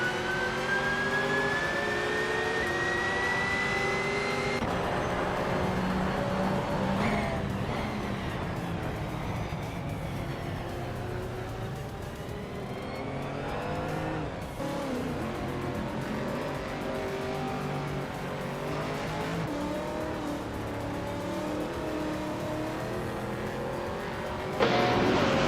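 Race cars including a 2004 Ferrari F360 GT roar around Botniaring in a racing video game, engines revving and shifting up and down in pitch continuously, with passing cars and occasional tire squeal.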